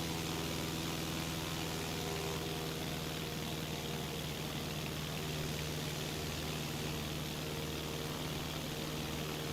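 A propeller aircraft engine drones steadily at a loud, constant level in Microsoft Flight Simulator 2020 over Albuquerque as the throttle is eased back, a continuous hum with no talk over it.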